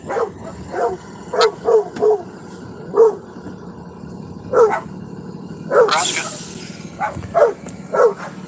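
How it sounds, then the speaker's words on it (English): Several dogs bark and yip in short, irregular bursts nearby, with some whimpering among the barks over a faint background hum. "There's some dogs barking next to me."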